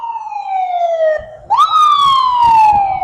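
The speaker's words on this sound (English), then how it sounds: "Here comes something, an ambulance or something." An ambulance siren passes on a windy morning in Sarasota, Florida, a loud wailing tone that drops in pitch, then jumps up and slides down again as it goes by, with wind and traffic rumble underneath.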